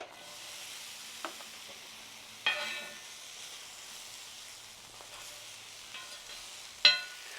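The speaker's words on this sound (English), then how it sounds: "anointed the Mojo griddle with some bacon fat. We're going to start off with some onions." Onions fry in bacon fat on a Mojo griddle, a steady soft sizzle with occasional louder scraping stirs and crackles, close and without talk.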